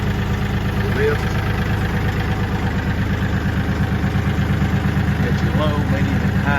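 A nearly new Kioti compact tractor engine idles close by, a steady low rumbling chug that stays loud and even throughout.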